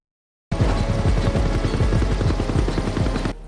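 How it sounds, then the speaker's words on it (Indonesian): A helicopter arriving in a film scene starts abruptly with a loud, close, steady rotor thump and turbine whine that holds for about three seconds and then drops away sharply. "Hexel dan Agen Stefano tiba di lokasi menggunakan helikopter."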